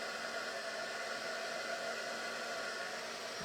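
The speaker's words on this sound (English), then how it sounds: "So I'm just using a heat gun that's a little bit right" A steady, even rush of blowing air from a hot-air tool, constant and fairly close, with no other sounds.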